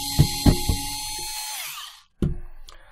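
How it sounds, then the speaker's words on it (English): A power driver backs screws out of a K-Rain Pro Series 100 sprinkler valve solenoid, giving a few sharp clicks, then a sustained whine that winds down, then a brief fresh burst, close and loud. "especially if you're using a power driver like I am here, you want to go ahead and take that off before you begin"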